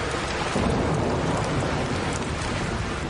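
Steady heavy rain in an Australian thunderstorm, a dense continuous wash of falling water with low rumbling thunder underneath, close and loud throughout.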